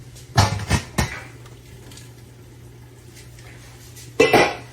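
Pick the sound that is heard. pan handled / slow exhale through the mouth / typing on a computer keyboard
pan handled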